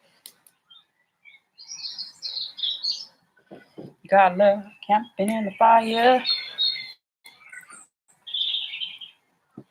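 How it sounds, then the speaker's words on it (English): Blackbirds and robins chirp and sing in bursts nearby in a garden while a person speaks over part of the calls; the song is clear between the words. "we've got blackbirds, there's robins, there's all sorts going on"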